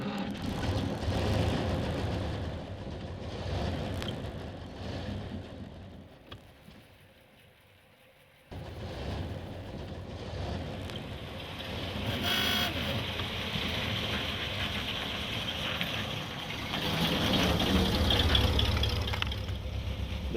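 Engine of a 1918 Chevrolet car runs steadily during a ride, a low continuous rumble with a mechanical hum that drops out briefly, then returns and builds louder toward the end, with no talk.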